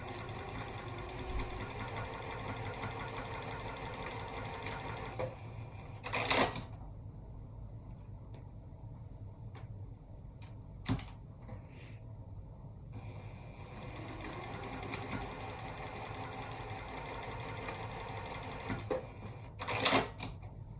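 Sewing machine stitching down the short sides of zipper trims on a zippered cosmetic bag with a narrow seam allowance; steady running hum in two long stretches, broken by a few brief clicks and louder bursts between them.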